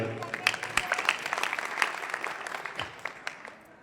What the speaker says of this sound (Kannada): ಚಪ್ಪಾಳೆ ಹಾಕ್ರವ ಜೋರ